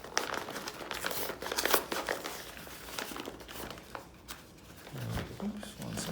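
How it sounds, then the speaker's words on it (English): A paper envelope holding archery broadheads torn and opened, with close crinkling, crumpling and ripping in irregular bursts while someone talks over it. "let's open up the envelope from Thorn"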